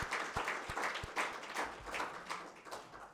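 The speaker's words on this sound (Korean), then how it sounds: "우리 부활하신 주님에게 박수로 영광을 돌리겠습니다." A church congregation claps in unison for the risen Lord at an Easter service, a brief run of steady rhythmic handclaps at moderate volume, roughly three claps per second.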